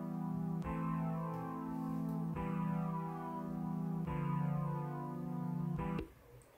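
A drill beat built in LMMS plays with sliding 808 bass notes and a halftime effect. Loud, gliding low tones restart every couple of seconds under a dense, effected texture, and it cuts off abruptly near the end.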